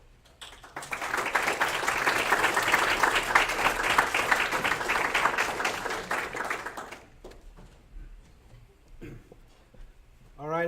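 Sustained applause from an audience at an honors presentation event, filling the room for about six seconds before fading into scattered claps and murmuring voices.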